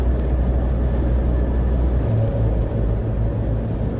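A car drives steadily on the road with a dense, loud engine and tyre rumble that continues without pause, and no voices are heard.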